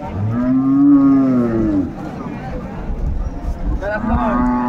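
Cows and calves moo at a busy rural cattle market in Dinajpur, two long loud bellows, one at the start and another near the end, over a crowded bed of market chatter and shouting.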